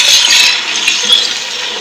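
Water is poured into a hot pan of lightly roasted rice and coconut while cooking jaggery rice, giving a loud, steady hiss and sizzle that fades slightly over two seconds.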